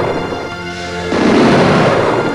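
Gunfire in the video game Might & Magic 8, a loud sustained burst of booming shots and blasts that swells after a quieter tonal passage and stays dense and heavy to the end.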